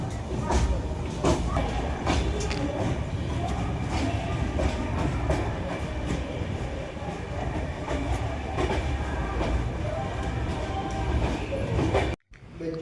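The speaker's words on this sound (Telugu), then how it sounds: "ట్రైన్ అయితే కోయంబత్తూరు జంక్షన్లోకి ఎంటర్ అయిపోయింది" A train rumbles and clatters close by as it rolls into Coimbatore Junction railway station, with rhythmic wheel clicks and metallic squeaks, ending in a sudden cutoff.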